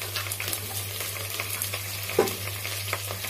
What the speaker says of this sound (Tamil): இப்போ நம்ம கறி இதில் எண்ணெயில் சேர்த்துப்போம்.